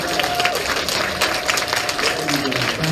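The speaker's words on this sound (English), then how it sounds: "Standing ovation." An audience gives a standing ovation at a fifth-grade school commencement ceremony, clapping densely and continuously while scattered voices call out over it.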